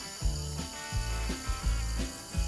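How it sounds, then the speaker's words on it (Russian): An electric drill fitted with a concrete bit bores a hole through ceramic tile, a grinding mechanical rattle pulsing in short repeated bursts as the bit bites, close and fairly quiet. "Затем засверлю отверстие сверлом по бетону."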